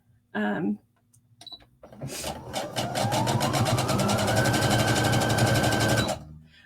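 A sewing machine bastes a knit skater dress seam with straight stitches, running in one loud, steady, rapid whir for about four seconds after a short burst of a voice.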